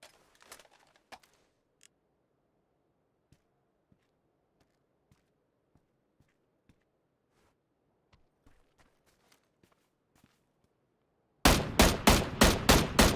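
M16 rifle gunfire in the game PUBG: a sudden loud burst of rapid, evenly spaced shots near the end, after a long near-silent stretch with faint scattered ticks and footsteps.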